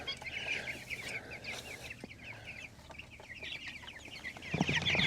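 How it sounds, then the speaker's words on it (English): A flock of young meat chickens out on fresh farm pasture clucks and chirps continuously at a moderate distance, many overlapping calls forming a busy chatter that grows louder and closer at the end. "we will have all the chickens out on pasture"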